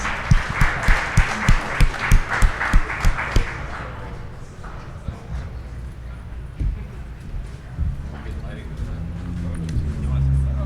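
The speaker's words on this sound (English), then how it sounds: "Round of applause, please." Audience clapping at a technology conference session on delivery and autonomous vehicles arrives as a brisk, evenly spaced run of sharp claps over the first few seconds, then fades out as a speaker begins talking up close.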